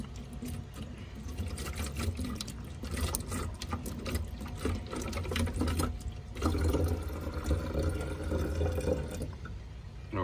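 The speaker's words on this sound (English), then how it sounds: "now that the water has cooled down, I'm going to pour it into my Windex bottle" Cooled banana-soaked water pours steadily into a Windex spray bottle, a continuous close liquid trickle and splash running throughout with faint clinks, no talking.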